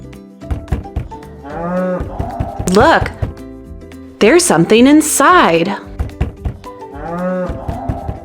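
A cow on a farm lets out a few loud, drawn-out moos in the middle of the clip. A voice talks before and between the calls, and softer sounds run underneath.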